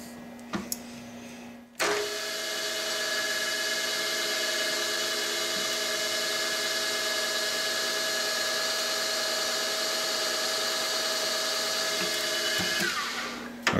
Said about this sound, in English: When I butt up the tool against the backstop in the drill chuck